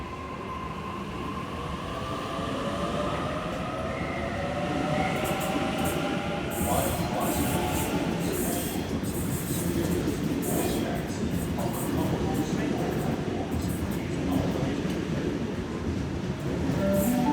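A Sydney train pulls out of Sydenham station, its steady rumble and rising motor whine filling the platform at close range for the whole stretch, with squealing wheels drawing faint curved tones as it gathers speed.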